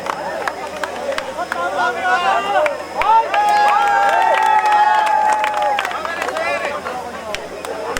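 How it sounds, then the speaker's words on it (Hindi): An awards show crowd cheers and claps for an actor called to the stage, a busy mix of voices, whoops and applause with music-like tones running through it. "जोरदार तालियों से अभिनंदन करें"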